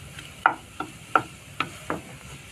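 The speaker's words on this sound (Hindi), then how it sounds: "अभी आलू को अच्छे से मिलाएंगे सब्जी के साथ।" Potatoes and vegetables stirred in a pan for a semolina and potato snack, heard as five distinct spoon scrapes and clinks against the pan, evenly spaced and close, over a faint background with no talking.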